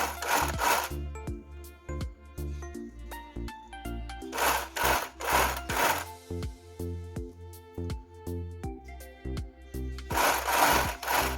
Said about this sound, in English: So I'm going to sew it all the way